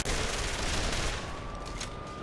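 Rapid rifle fire in the shooter game Call of Juarez: The Cartel, a dense, continuous burst of loud shots filling the moment with no voices over it.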